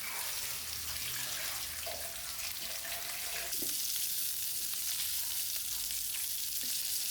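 Sardines fry in a pan, seasoned with pepper, giving a steady close-up crackling sizzle with a few faint utensil clinks. The hiss grows a little stronger partway through and stays even to the end.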